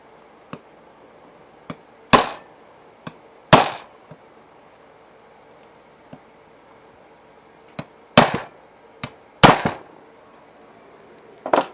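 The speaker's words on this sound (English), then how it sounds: "so I'm using my little baby 16-ounce hammer" Sharp metallic taps of a small 16-ounce hammer on a Honda CB900 carburetor ring out irregularly, some single and light, others louder strikes in quick pairs, with quiet gaps between.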